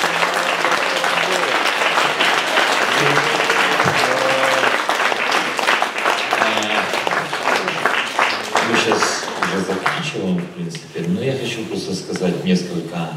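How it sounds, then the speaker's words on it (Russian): A congregation in a Messianic Jewish community gathering breaks into sustained applause after a prayer, loud and full, then thinning out over the last few seconds as talking and murmuring take over. "Аплодисменты"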